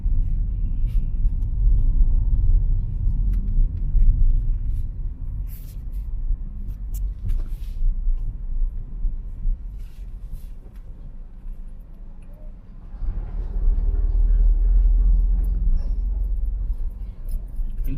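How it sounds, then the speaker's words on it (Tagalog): Heavy trucks pass along Navarro Road in General Trias near road works, a loud low rumble that swells, fades and builds again as vehicles go by, with no voices. "baka ito mga truck na itong nadaan dito"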